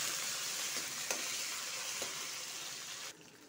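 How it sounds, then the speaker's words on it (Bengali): Ginger paste, ground on a stone slab, is stirred while frying in ghee for khichuri. It gives a steady close sizzle with a couple of light spoon knocks, and the sound drops off abruptly near the end. "আদার সাথে ভালো করে হিলাবো।"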